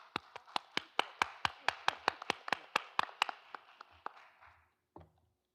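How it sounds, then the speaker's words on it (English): Brief round of applause from a small audience at a Board of Education meeting, a steady run of sharp, fairly loud claps that thins out and fades after about four seconds, with a final isolated clap near the end. "So round of applause for our Board of Education"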